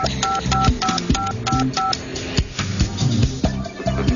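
Telephone keypad tones punched in quick bursts of steady paired beeps, several presses with short gaps in between, loud and close with no talking.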